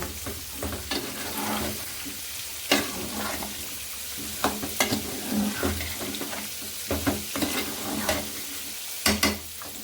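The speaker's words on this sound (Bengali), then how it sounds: "এখন আলুটা দিয়ে আবার একটু কষিয়ে নেব" Beef and cut potatoes fry in a pan on a stove, giving a steady sizzle broken by repeated scraping stirs and clinks of a utensil against the pan.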